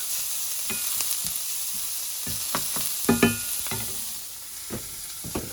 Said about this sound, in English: Don't mash it up. Just let it cook, like Lakeisha says, organically.